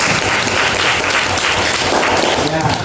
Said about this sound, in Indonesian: Kasih tepuk tangan dulu lah.